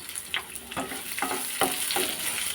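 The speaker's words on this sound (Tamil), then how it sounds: "வெங்காயம் சேர்த்து நல்லா வதக்கிட்டு காரத்துக்கு பச்சை மிளகா சேர்த்துக்கிறேன்" Onions and green chillies sauté in a hot pan for a chutney, giving a steady close sizzle with about five sharp scraping stirs of a spatula spaced evenly through it; no one speaks.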